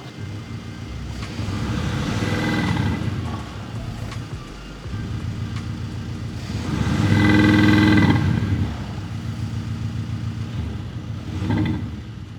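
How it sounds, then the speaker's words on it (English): Audi A5 fitted with an aftermarket exhaust, its engine droning loud and close with a deep, steady tone that swells in two stronger revving bursts and a brief final rise. "Tyer exhaust, and so it sounds really, really strong."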